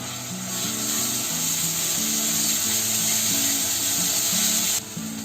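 Ginger garlic paste sizzling with tomatoes in a pan, a steady loud frying hiss throughout, with a low tonal hum underneath and a few soft stirring scrapes; the hiss drops off just before the end.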